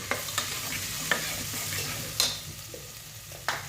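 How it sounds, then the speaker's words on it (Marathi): Garlic-ginger paste and red chili powder are stirred in two spoons of hot oil, making a steady sizzle broken by several sharp scrapes of the spoon against the pan, with no speech. "2 चम्मच तेल घातलेलं आहे मी, लसूण अद्रकची पेस्ट, लाल तिखट छान मिक्स करून घ्यायचं आहे"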